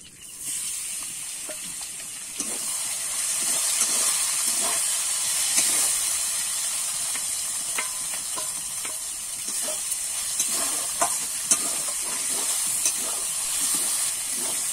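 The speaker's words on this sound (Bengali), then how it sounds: "ওই তেলেতেই কিন্তু নুন হলুদ মাখানো চিংড়ি মাছটা ভেজে নেব।" Shrimp coated in salt and turmeric frying in hot oil for Bengali echor chingri, giving a steady close sizzle and hiss with scattered crackles and occasional stirring, heard alone without talk.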